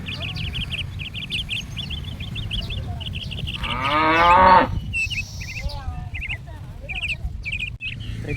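A cow at a market selling Jersey and HF cattle lets out one long, loud moo rising over a constant crowd murmur, while birds chirp repeatedly in the background.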